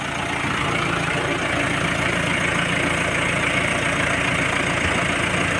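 A Mitsubishi L300 Euro 4 engine idles at a steady, loud, close drone with the Denso aircon compressor running, an even mechanical hum throughout and no voices.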